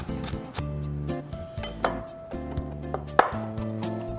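Black olives being chopped into small pieces for sweet corn fritters, heard as knife taps against a board with light clinks of glass or dishes and a soft rubbing, close and fairly quiet, with no voice.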